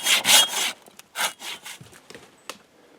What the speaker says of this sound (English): we've taken a pretty good dent out of this tree with our soaky saws